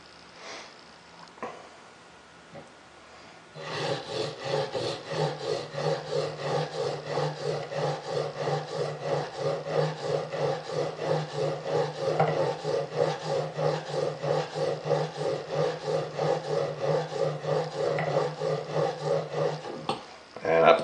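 A chisel or plane iron being lapped flat with Windex as lapping fluid, a steady back-and-forth rasping scrape in an even rhythm, close and loud, after a few quiet seconds of setup noise.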